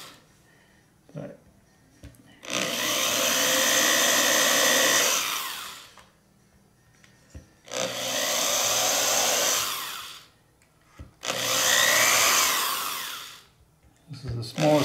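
A drill driving small pilot holes into a Jazzmaster guitar body whirs in three sustained bursts of a few seconds each, separated by quiet pauses with faint handling noises.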